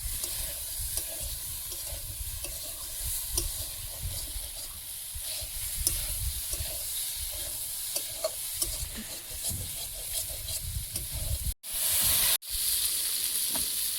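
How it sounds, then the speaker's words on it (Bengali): Potatoes and whole tomatoes fry in a pan for Sundarban-style potato dal, with a steady close sizzle and soft stirring scrapes throughout, and a brief break near the end. "আলু টমেটো একটু ভেজে নিয়েছি"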